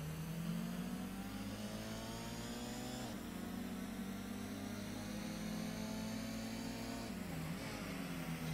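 A Honda Prelude's engine drones steadily in the Gran Turismo racing game at Autumn Ring, holding a sustained mid-pitched whine with shifts in tone around gear changes, loud and continuous with no talk.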